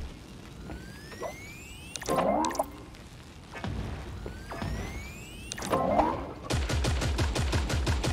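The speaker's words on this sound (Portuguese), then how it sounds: "Minigun, coisa perigosa, rapaz." Gunfire in the battle game Creative Destruction: scattered shots and booms with whooshing effects, ending in a rapid, steady burst of minigun fire.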